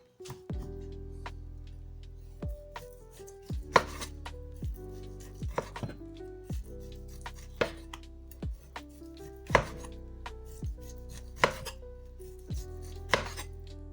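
A knife slices Vietnamese cha lua pork roll into medallions on a cutting board, producing a series of distinct, close thumps spaced a second or so apart, with no talk.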